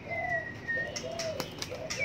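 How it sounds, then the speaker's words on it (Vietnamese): Caged birds at a white-rumped shama aviary call out with clear whistled notes and soft coos, a few rising and falling phrases close by over low background noise. "Chim bay thả bay lung tung luôn."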